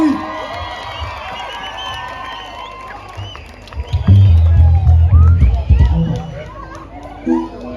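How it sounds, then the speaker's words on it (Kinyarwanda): A crowd at a team competition event roars and cheers with scattered clapping, swelling loudly midway as heavy bass-laden music booms underneath, then easing back to a busy murmur. "nikomera amashyi menshi"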